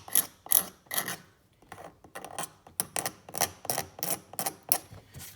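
An X-Acto knife scrapes paint off a valve cover in short rasping strokes, close and fairly loud, with about a dozen rhythmic scrapes separated by brief pauses.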